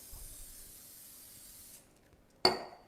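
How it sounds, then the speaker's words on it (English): A spray can hisses steadily over crunchy nut chicken for nearly two seconds, then falls quiet before a sharp, brief clatter close by. "Now what we're going to do is spray the top."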